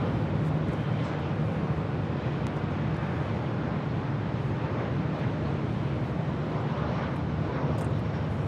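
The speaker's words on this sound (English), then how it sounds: "This is Southwest Airlines 471 coming in from Sacramento on a 737-700." A Southwest Airlines Boeing 737-700 arriving from Sacramento lands at Los Angeles International Airport, its jet engines a steady, broad roar that holds loud and even throughout with no voices.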